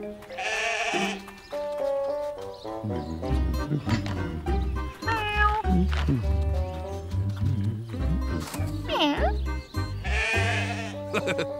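Sheep bleating in a snowy winter farm setting from a children's animated series, a few wavering bleats heard among music and people talking, moderately close.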